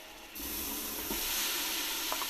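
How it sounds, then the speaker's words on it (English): An onion hits hot fat in a pot and sizzles, a sudden burst of loud frying hiss that keeps going with a few stirring scrapes and no talk. "It's going to sizzle now."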